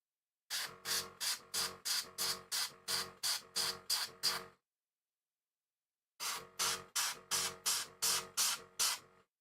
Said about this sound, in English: Gotta turn the compressor back on again.